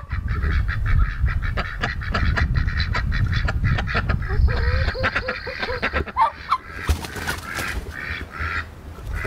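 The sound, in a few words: homestead poultry birds calling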